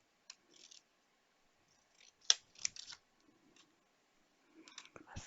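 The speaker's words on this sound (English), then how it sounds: "I can just pop it in with my scissors" Scissors snipping through craft card for a Christmas decoupage project, a few quiet, crisp cuts and clicks in scattered short bursts separated by near silence.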